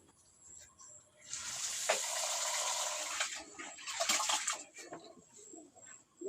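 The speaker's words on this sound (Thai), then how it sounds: "ล้างข้าวก่อนเนาะหุงข้าว" Running water pours as rice is rinsed before cooking in a rural Lao-style kitchen, a steady splashing gush lasting a few seconds, then sloshing and swirling sounds with faint birdsong in the background.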